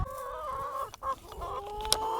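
Backyard chickens cluck and murmur close by in soft, rising and falling calls, several birds overlapping in a short, quiet burst of early-morning chatter.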